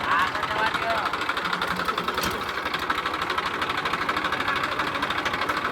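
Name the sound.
tractor engine running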